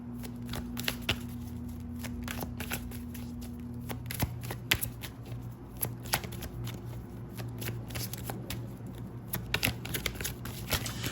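Tarot cards being shuffled by hand, a long run of rapid papery clicks and riffles close up, irregular bursts with a few sharper snaps, alone over faint room hum.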